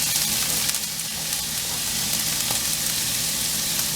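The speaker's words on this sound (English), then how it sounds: "I cut up some mini sweet peppers, and I'm putting those in there too" Mini sweet peppers sizzle steadily in a hot frying pan, a continuous close crackle and hiss of frying with no talking.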